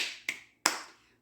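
A woman claps twice for herself, two sharp, close, crisp smacks about a third of a second apart, each with a quick fading ring, in an otherwise quiet room.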